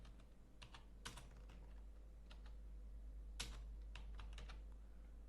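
Computer keyboard typing, with quick bursts of soft key clicks and a couple of heavier taps, close and quiet over a low steady hum.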